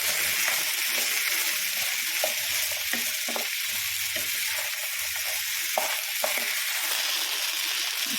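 Potatoes frying with salt in a pan, giving a loud, dense, continuous sizzle with occasional faint scrapes of a spoon stirring beneath it; no voices.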